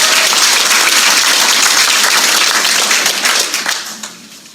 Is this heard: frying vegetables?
no